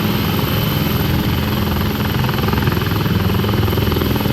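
An Indian Army helicopter carrying paratroopers drones loudly and continuously with steady rotor thump and engine whine, close and dominant throughout, without speech.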